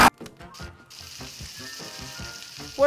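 Food sizzles in a hot frying pan in the video game Palworld, with a rhythmic pulsing crackle, as if being stirred; no one speaks.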